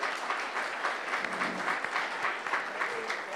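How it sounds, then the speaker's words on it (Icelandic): A conference audience gives a panel of speakers a steady round of applause, with continuous clapping throughout and a voice briefly audible under it. "please give them a good hand"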